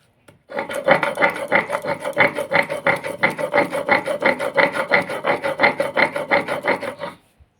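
Cashews, mustard seeds and green chili are ground into a paste by hand, giving a loud, steady rhythmic rasping with roughly three scraping strokes a second, alone and without talk.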